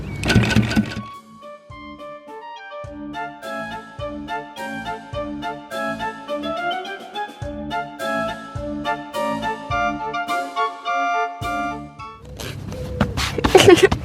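Heavy duty sewing machine stitching tent fabric outdoors, a close mechanical whirring in stop-start bursts with tonal, musical-sounding runs, and brief rustling and voices at the start and end.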